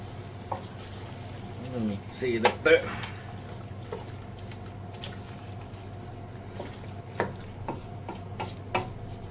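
Grouper head curry masala is stirred in a pan, giving scraping and sloshing strokes near the start and scattered clinks later over a low background, with a brief voice heard early on.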